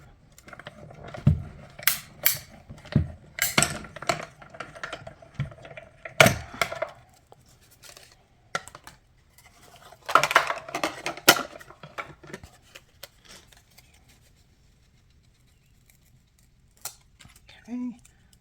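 A die-cutting machine handles metal and magnetic plates for a paper craft project: scattered clanks, clicks and rattles of plates come in bunches, then go quiet.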